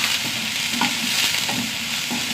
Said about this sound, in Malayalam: ഉള്ളി മൂത്ത് വരട്ടെ.